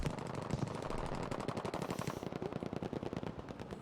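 A WWII strategy video game firefight with a Panzer IV tank in the fight: loud, rapid machine-gun bursts rattle continuously for a few seconds, with individual shots becoming more distinct toward the end.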